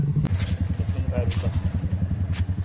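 Motorcycles on a mountain road near Baguio City during a Distinguished Gentleman's Ride, with a steady low engine rumble pulsing through the whole moment, a rider's machine coasting in neutral while others run close by.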